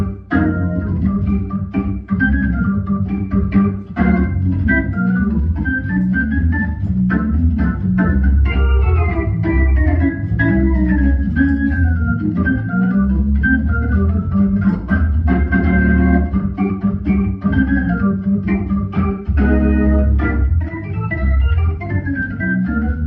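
A Hammond organ set to a jazz drawbar registration plays sustained chords and quick melodic runs, loud, close and continuous, with no talking.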